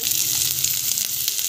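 Onion sizzling in hot oil in a pan, a steady dense hiss with faint crackles throughout, close and even, no voices.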